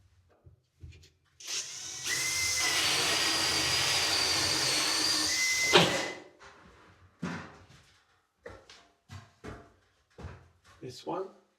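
A power drill driving out screws from plasterboard in a bathroom being stripped runs steadily for about four seconds at close range, followed by scattered knocks and handling sounds.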